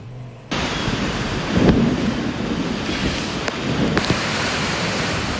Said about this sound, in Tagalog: Naglalaki ang alon at malalakas na hangin ang dinala ng bagyong Ferdy sa Kawayan, Ilocos Sur.